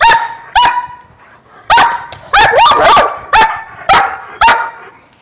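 A German Shepherd protection dog barks loudly and close during bite training, about eight sharp, separate barks with short gaps, some doubled in quick succession, and no talk in between.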